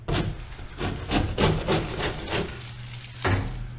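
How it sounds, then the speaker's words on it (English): Rough, rhythmic scraping strokes rasp across a water-damaged drywall ceiling patch, about eight quick passes in a row, close and fairly quiet, ending with a pause and one final scrape. "Just got to scrape it back a little bit."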